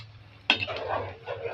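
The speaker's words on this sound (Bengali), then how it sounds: "নুসটা নাড়া দাও" A utensil stirs noodles in a pot in a home kitchen, starting with a sudden metallic clatter after half a second, then continuing as close scraping and rustling against the pot.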